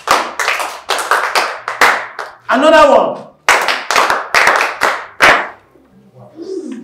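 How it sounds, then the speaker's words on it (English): Students in a school classroom clap their hands in applause, several short rhythmic bursts of claps mixed with talking and a brief shout, ending quieter. "Come on, give her a hand of applause."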